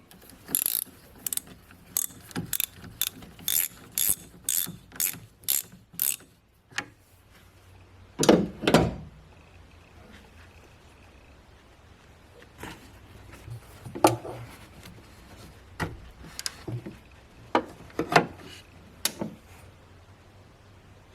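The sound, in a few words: 10mm socket ratchet removing negative battery cable on GMC Sierra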